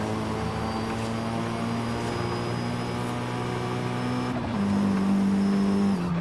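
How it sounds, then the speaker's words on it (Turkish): A Mitsubishi Lancer Evolution III engine in Forza Horizon 5 drones steadily, then its pitch drops sharply at two gear shifts, with a quick blow-off valve whoosh at each change. "Vites değiştirirken bu lavov çuflamasına bak."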